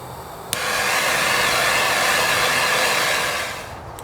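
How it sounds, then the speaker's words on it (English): A torch roars steadily while heating a bronze otter sculpture, opening with a click and then a loud, even breathy hiss held for about three seconds before tapering off. "So get your torch again if you're following along, and we'll heat the sculpture up a little bit."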